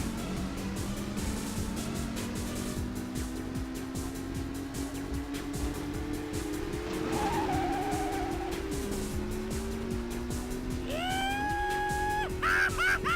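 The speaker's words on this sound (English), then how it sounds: "Ron there just got completely wiped out, so Ron's out of the race" Cars race in the video game Whiplash, engines droning steadily with rising and shifting pitch, tire squeals and crash noises breaking in near the end.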